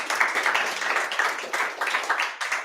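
An audience claps at a startup incubator graduation party, a dense, steady round of applause that carries on throughout without any speech.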